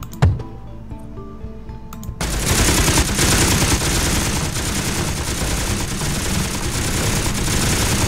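Dense, continuous gunfire and automatic weapon bursts from the Beast Battle Simulator video game, starting abruptly after a short quiet moment and staying loud and sustained to the end.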